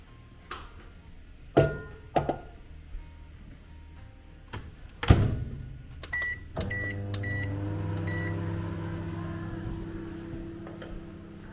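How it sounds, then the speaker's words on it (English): Several clunks and a door thud, a few electronic beeps, then a microwave oven starts humming steadily and keeps running, heating butter and chocolate. "we're going to put it in the microwave for 2 minutes"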